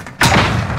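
A flashbang grenade going off in a video game, a single sudden loud thud with a burst of hiss that rings out briefly afterward.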